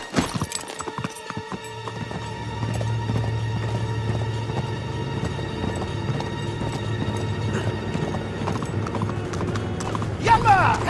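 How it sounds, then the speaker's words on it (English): Rhythmic clip-clop of galloping horse hooves in Uncharted 3: Drake's Deception runs steadily under game music and effects, with a brief whinny and clatter toward the end. "There's my horse!"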